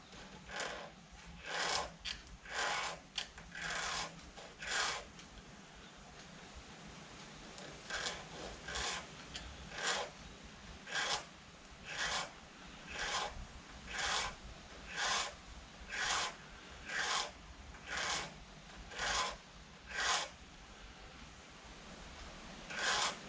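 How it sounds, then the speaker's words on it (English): A piston ring clamped in a vise being filed by hand, a steady rhythm of about twenty rasping strokes in regular bursts, close and fairly quiet against a faint background. "when you hold them in the vise, you only want a little tiny bit sticking out, so you don't want it wobbling around while you're filing it"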